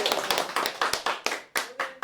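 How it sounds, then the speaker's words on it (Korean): An audience at a Korean traditional pansori music lecture-performance welcomes performers with scattered, uneven hand claps, sharp distinct slaps in an irregular rhythm, with a voice briefly speaking over them. "박수로 환영해주세요"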